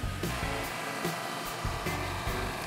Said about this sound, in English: At the planer, I'm removing the bulk of material from these boards